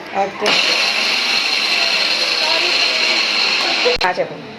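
Electric mixer grinder chopping onions and chillies, a loud, close whirring roar that starts abruptly, runs for about three and a half seconds, then stops with a brief knock.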